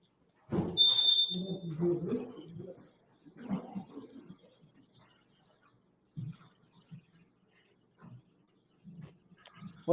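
A smoke detector gives a short high chirp at a meeting, heard once clearly early on and more faintly later, while several people talk and murmur in the room.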